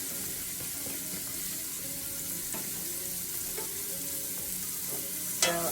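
Red onions and mushrooms frying together in a pan, an even close sizzle with faint scattered crackles and a sharper clatter near the end, no speech.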